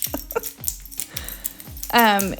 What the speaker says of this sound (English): my dog's scratching next to me